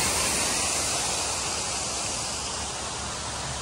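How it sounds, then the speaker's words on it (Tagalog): A waterfall roars loudly and steadily in broad, unbroken rushing noise, filling the scene from start to finish with no pauses. "Lakas ng buhos ng tubig ay."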